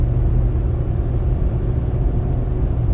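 Hummer H3 engine droning steadily from inside the cabin on a test drive, a continuous low rumble with a slight mid-range whir and no distinct gear-change break.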